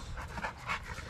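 A Rottweiler pants steadily at close range, a fast rhythmic huffing that runs through the whole moment with no other sound over it.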